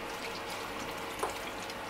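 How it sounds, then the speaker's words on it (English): Chicken broth pouring steadily into a pot of tomato stew, a soft continuous splashing and trickle close by, with no talking. "Pour in your broth"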